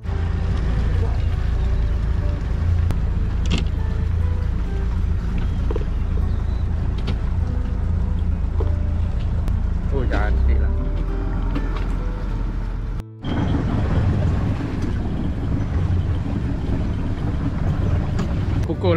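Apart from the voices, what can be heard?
fishing boat motoring out to sea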